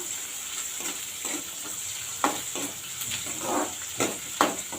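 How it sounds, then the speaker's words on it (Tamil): Onions sautéing in a pan with a few garlic cloves for a tamarind curry, a steady close sizzle with bursts of stirring scrapes and spoon clatter, no talking. "இதை வந்து வெங்காயத்தை இப்போ நல்லா வதக்கிடுவோம்"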